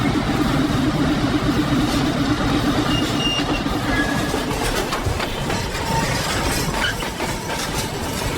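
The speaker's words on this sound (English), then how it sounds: "engines' rhythmic chug echoing through the trees" A logging train rolling through forest, a continuous broadband rumble of engines and rail cars with faint metallic squeals and clatter, steady and moderately distant, no voices.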